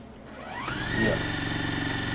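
Electric sewing machine stitching cloth face masks, a short burst that starts softly and ramps up into a fast, even mechanical whir, close and moderately loud with no speech.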